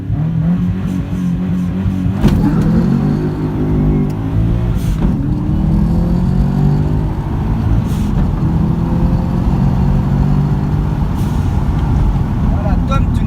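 A Subaru Impreza WRX STI launches hard from a standstill and accelerates. The engine drones loud and close, its pitch climbing through the gears with short breaks at the shifts, and the sound stays heavy and continuous throughout.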